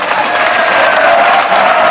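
Loud, steady applause from an audience at a political gathering in Rajasthan after a statue unveiling, a dense wash of many clapping hands sustained throughout with no distinct voices.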